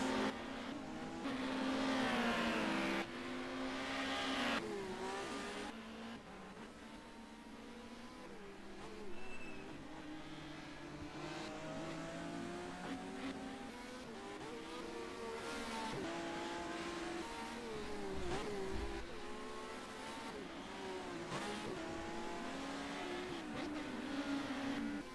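Touring cars in a racing video game race around a Helsinki circuit, with steady engine drone, shifting revs and occasional tire noise throughout, loud and continuous.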